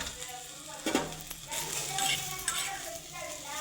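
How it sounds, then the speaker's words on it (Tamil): Okra tossed into a hot pan with no oil for tamarind kuzhambu, giving a soft, close sizzle with a few metallic stirring clinks and scrapes along the way. "முதல்ல வெண்டைக்காயை ட்ரையாக வதக்கிக்கணும்"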